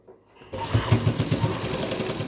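A sewing machine stitches a zip onto a shirt, starting after a brief quiet moment and then running steadily at close range with a rapid, even mechanical rhythm and no voices over it.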